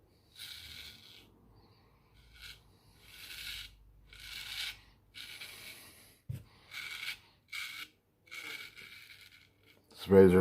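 A carbon steel straight razor with a boar hair brush lather passes with the grain over stubble, making close, crisp scraping strokes in repeated bursts separated by short pauses.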